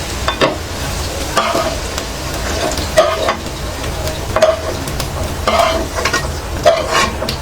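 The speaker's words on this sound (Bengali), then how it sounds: "আলু ভাজাটা তুলে নিচ্ছি" Potatoes fry in hot oil in a pan under a constant loud sizzle, punctuated by repeated scraping strokes of stirring at a loose, regular rhythm.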